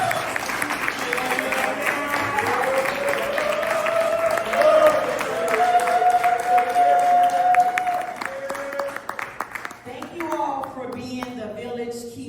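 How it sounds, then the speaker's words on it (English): Audience at a Father's Day step show and brunch clapping for honorees, a lively crowd of hands and cheering over a long stretch, with voices and a tonal sound running through it before it thins out near the end. "Let's clap it up for our honorees."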